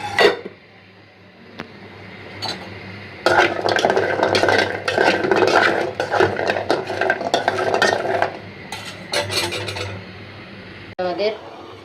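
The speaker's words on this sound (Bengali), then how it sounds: "তা চলেন সব কিছু পিস টিস কাটাকাটি করি।" Dishes and utensils clatter while ingredients for pangas fish, jackfruit seed bhorta and egg bhuna are prepared, with busy bursts of scraping, knocking and metallic clinks that come and go, and a loud knock near the end.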